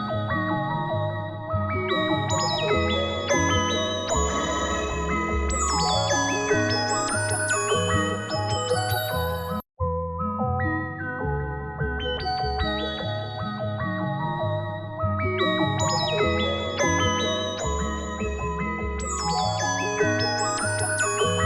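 Lush Serum 2 synth pad run through subnautic and phaser effects, playing dense sustained chords and shimmering arpeggiated tones that swell continuously, with a brief dropout near the middle before the same dreamy passage repeats.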